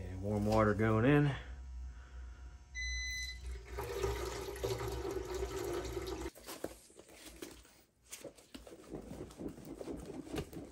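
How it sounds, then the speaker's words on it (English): Warm water pours into the fuel tank of a 1981 Honda XL500S, a loud, gurgling rush of liquid filling the metal tank that changes tone as it fills, with someone talking briefly over the start. "Warm water going in."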